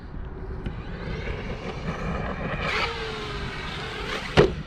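An Arrma Kraton XL RC truck bashing on a motocross track, its electric motor whining and rising in pitch as it accelerates away, ending with a sharp knock as it lands.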